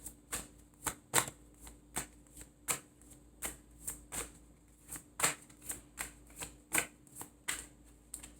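A deck of tarot cards is shuffled by hand, a quiet, close series of crisp riffling slaps repeating in an irregular rhythm about twice per second.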